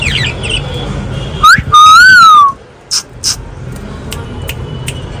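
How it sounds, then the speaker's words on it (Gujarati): Pet lovebirds indoors give a sharp, loud rising whistle followed by a few short, bright chirps, close by over a faint background hiss. "જો અમારા લવ બર્ડ જો"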